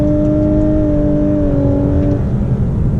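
A 2017 Lexus LC 500h hybrid in Sport Plus accelerates hard with a steady engine whine that steps through simulated gear changes over a constant road roar, heard from inside the cabin.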